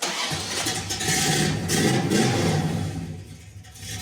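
An old car's V8 engine turns over and catches, then settles into a loud, rumbling idle that swells briefly before easing off.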